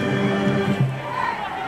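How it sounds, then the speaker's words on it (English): A high school varsity football crowd at a night game roars in a steady wash of cheering and noise, heard from a distance, with commentators talking over it. "This crowd is getting into it."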